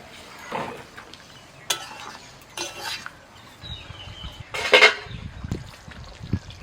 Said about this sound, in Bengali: গ্রেভি ফুটতে শুরু করেছে এবার এই পটলগুলো আমি দিয়ে দিচ্ছি